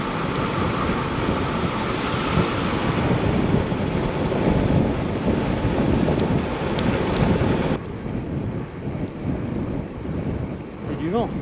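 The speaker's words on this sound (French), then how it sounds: "Il y a du vent." Strong wind buffeting the microphone while cycling uphill during an ultra-distance bike race in the Auvergne volcano region, a loud continuous roar that drops somewhat near the end, with no talk.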